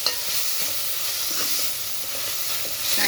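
Chili powder is stirred into a dried prawn and tomato onion gravy as it fries, a steady close sizzle with repeated scraping strokes of a spoon in the pan.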